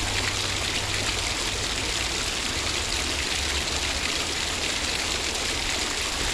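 An outdoor stream rushes in a constant, dense broadband wash, loud and close, with no voices.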